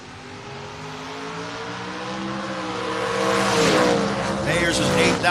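An Alfa Romeo Roadster drag races against a Camaro at a drag strip, their engines building steadily from a low rumble into a louder, rising howl that grows closer and more intense toward the end.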